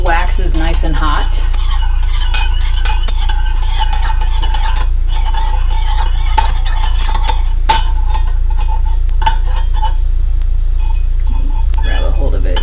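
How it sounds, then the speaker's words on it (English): Dye is stirred into hot melted wax, with repeated clinks and scrapes of a utensil against the container in quick, uneven bursts, and a voice at moments. "You need to stir that up really well."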